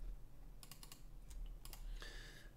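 Faint computer mouse clicks during 3D modelling in Blender: a handful of quiet, sharp taps in small clusters over a low steady background hum, with no speech.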